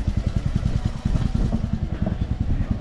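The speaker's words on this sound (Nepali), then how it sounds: "जेरी गल्लीमा बाइक कुदेको हामीले" A motorcycle rides close by through a narrow alley in Marpha village, Mustang, its engine throbbing in a fast, even, low putter with no voices.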